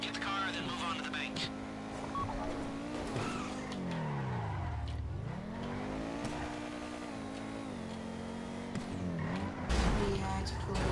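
A car in GTA V Online drives with its engine pitch rising and falling while tires squeal and skid. It stays steady and close throughout, under ongoing conversation.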